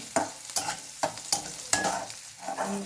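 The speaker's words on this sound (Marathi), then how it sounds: "लसूण आणि मिरची लाल झाल्यानंतर त्याच्यात आपण कांदा टाकून घ्यायचा आहे" Onion stirred into hot oil with garlic and chili, loud close sizzling broken by a rhythmic series of sharp scraping stirs about every half second.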